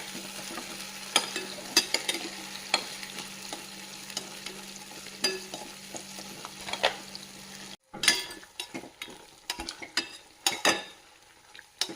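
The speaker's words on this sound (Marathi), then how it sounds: "पेस्ट छान तेलावर भाजून घ्यायचे आहे" Spice paste fries in oil in a pan, a steady crackling sizzle broken by sharp scraping stirs, with a short pause before the frying resumes louder and busier.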